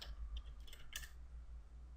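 A computer keyboard is typed on in Windows while entering commands for a DiskPart RAID 1 setup, with a few light, quick key clicks over a faint background hum, soft and close with no talk.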